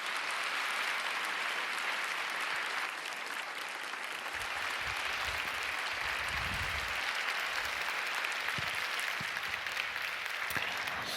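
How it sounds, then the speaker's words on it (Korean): Steady, sustained applause from an audience at an evening church prayer meeting, welcoming an author to the stage; dense clapping fills the whole stretch without a break. "우리 김영서 작가님 나오실 때에 힘찬 박수로 환영하며 맞이하겠습니다."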